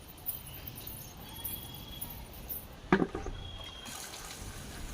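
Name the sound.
watering plants with tap water on a rooftop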